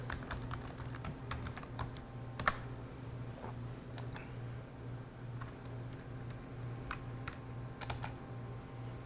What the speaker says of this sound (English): I was going to put my password in for my Wi-Fi network. I just have to use the right keyboard.